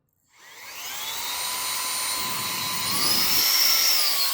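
Fanttik X100 cordless handheld vacuum starting up in blower mode, spinning up from silence to a loud, steady high-pitched whine with a rising motor tone, running alone close by.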